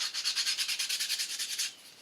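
Aluminum wing rib edges for a Corben Cabin Ace being deburred by hand, a steady run of about fifteen quick, even scraping strokes, close and bright, that stop near the end, with no voices.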